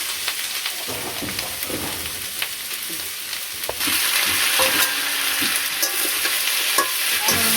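Fish seasoned with turmeric and salt fries in hot oil with a steady loud sizzle and crackle, stirred now and then, and the sizzle grows noticeably louder partway through.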